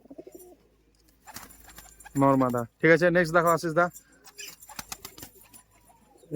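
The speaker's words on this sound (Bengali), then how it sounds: "দেখি ছাড়ো পায়রা গুলো" Madrasi pigeons kept for sale coo in two loud bursts of several warbling notes each, close by, with wing flaps and handling noises around them. People talk briefly before and after the coos.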